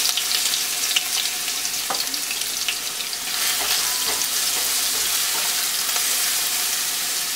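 Chopped ginger, garlic and onion fry in a pan of hot oil for chicken Manchurian, giving a steady, close sizzle with occasional light clicks of a spoon.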